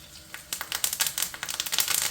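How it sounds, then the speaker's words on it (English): Sharp, irregular crackles and pops from sprigs of thyme frying in hot duck fat, starting quietly and growing busier, a close sizzling spatter with no voices. "All it is just frying the moisture out of the thyme"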